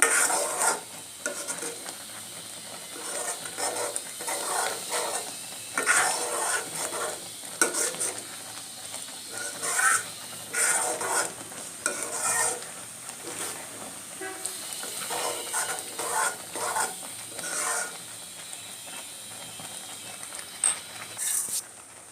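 A spoon scrapes and stirs a thick kheer filling mixed with rice flour in a pan, giving steady, repeated scraping strokes with a faint sizzle underneath, close and continuous without any talking.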